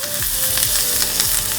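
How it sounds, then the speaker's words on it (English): Potato fries in a hot pan for chicken curry, producing a loud, close, steady sizzle with a faint tonal hum and a few low thumps underneath. "We just added the potato in the pan. Just fry it."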